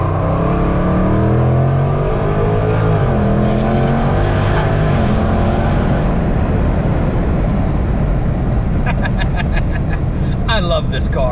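A car engine drones and revs while driving, its pitch climbing and shifting through gears in a loud steady roar, with someone talking over it.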